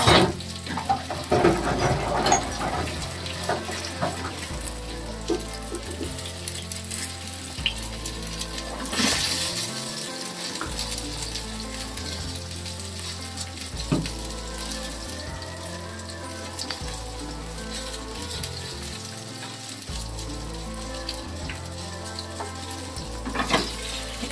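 For baingan bharta, onions and tomatoes fry in a pan with a constant moderate sizzle, punctuated by occasional stirring knocks, while a faint rhythmic background plays underneath without speech.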